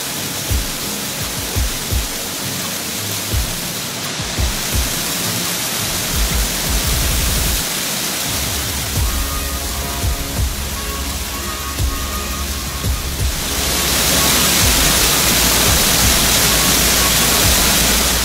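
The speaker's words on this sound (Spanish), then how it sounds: "la majestuosa Catarata del Brío, con una caída de 150 metros" The 150-metre Catarata del Breo waterfall in Huicungo District, Peru, roars in a steady, dense wash of noise, swelling louder toward the end, with no voices.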